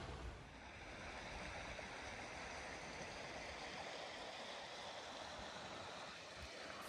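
A creek flows beside a campsite, giving a faint, steady rushing and gurgling wash that holds constant and unbroken throughout, with no voices over it.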